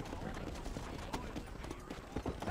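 Horse hooves clip-clop in a quick irregular rhythm in the video game Red Dead Redemption, with voices talking over the steps.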